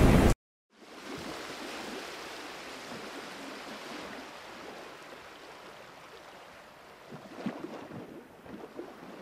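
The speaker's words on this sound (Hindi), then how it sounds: "अचानक एक बड़ी सी लहर आकर राजकुमार को समुद्र में गिरा दिया।" A big ocean wave crashes in a Hindi cartoon about a mermaid and a prince being swept into the sea: a broad, steady rushing wash of water after a short silence, with a few splashy surges near the end.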